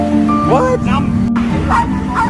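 Puppy for sale in a Saigon street setting, giving short yips and barks amid continuous background noise and people talking nearby.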